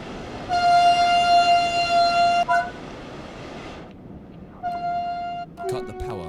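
Two long blasts from a passenger train horn in the Train Sim World 5 game on the Frankfurt to Fulda Kinzigtalbahn line, loud and steady with a short gap between them, over a low rolling rumble of the running train.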